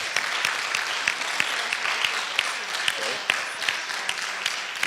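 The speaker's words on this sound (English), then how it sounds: "I want all of us to give them a big round of applause" Steady applause from a conference audience, dense clapping continuing evenly throughout with a few sharper individual claps standing out.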